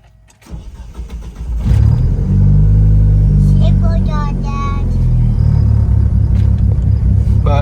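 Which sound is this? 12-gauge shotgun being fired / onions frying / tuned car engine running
tuned car engine running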